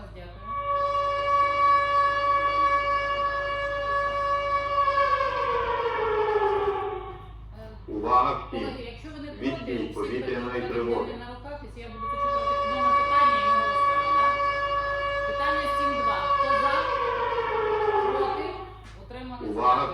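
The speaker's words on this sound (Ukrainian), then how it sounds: "Увага всім! Відбій повітряної тривоги." A loud wailing air raid siren sounds the all-clear, rising and holding in two long cycles, with a voice announcing the end of the alert in the gap between them.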